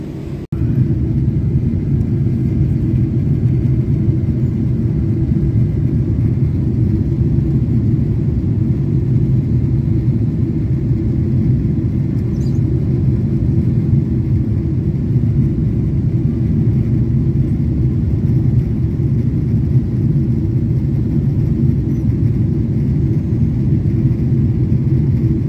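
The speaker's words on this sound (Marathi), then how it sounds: "आमचा टेकऑफ आता इथूनच असेल." Airplane taking off from Chicago Plainfield, heard as a loud, steady low engine roar and rumble that holds for the whole stretch without talk.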